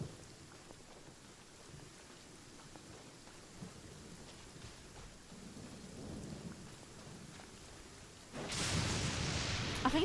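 A Genshin Impact thunderstorm: steady rain patters over a low ambient rumble, then a loud, close thunderclap bursts in near the end and rolls on with heavy crackling.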